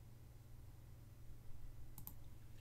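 A computer mouse gives two quick sharp clicks near the end, close and clear over a steady low hum.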